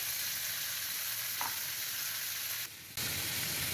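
Vegetables including cauliflower and frozen peas fry in a pot for veg dum biryani, a steady close sizzle running throughout with a brief clink and a short dip near the end, no voices.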